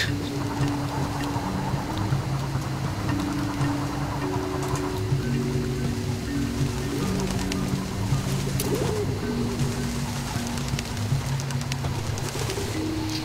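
Pigeons coo outdoors in a steady overlapping series of low, soft, throaty calls, with a hissing rain-like background throughout.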